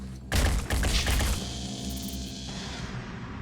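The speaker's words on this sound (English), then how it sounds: "The sound of gunshots suggests an ally is under attack." Rapid bursts of gunfire in the turn-based tactics game Phoenix Point, loud and dense for about a second, then easing into a steadier rumble of combat noise with no speech.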